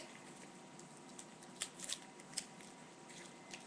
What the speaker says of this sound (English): and then you tape it